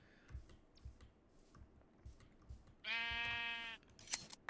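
A sheep in the Minecraft Create mod lets out one clear, loud bleat midway, set against quiet rhythmic clicking and soft footsteps from the game.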